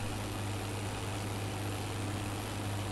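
A tractor engine from Farming Simulator 22 with an Indian mod runs at a steady, low idle, an unbroken even hum throughout.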